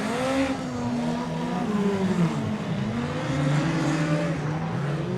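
Midget race cars circle the Oceanview speedway, their engines droning and rising and falling in pitch as several cars pass at a distance under a steady roar.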